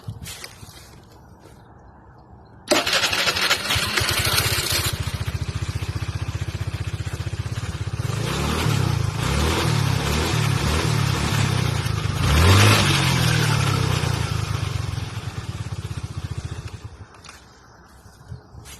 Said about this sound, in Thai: แล้วต่อไปมาดูที่ ระบบสตาร์ทของเครื่องยนต์นะครับ